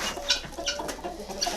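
Chickens in a new coop at evening give soft, scattered clucks and chirps, fairly close over a steady background hiss, with no speech.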